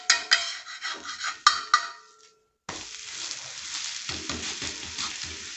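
Wheat dosa cooking on a hot griddle gives a steady frying sizzle. Sharp scraping taps come while it is flipped, then a short silence, then a softer continuous sizzle with light scraping.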